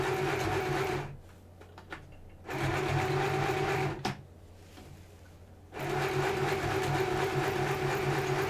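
A sewing machine stitches a seam on a homemade Halloween costume, running in steady loud bursts with two short pauses between them, close by with no voices.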